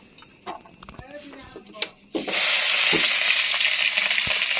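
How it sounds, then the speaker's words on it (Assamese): Onion hits hot oil in a pan and bursts into a loud, steady sizzle that continues without letting up, after some quieter clinks and talk at the start. "তেলটো গৰম হ'লে আমি পিঁয়াজটো দি দিম"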